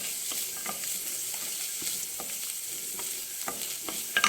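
Vegetables frying in a pan for quinoa vegetable egg pulao give a steady, moderately quiet sizzle, with soft intermittent clicks of stirring scattered throughout and a slightly louder scrape near the end.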